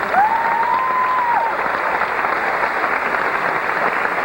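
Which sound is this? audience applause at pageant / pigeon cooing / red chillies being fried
audience applause at pageant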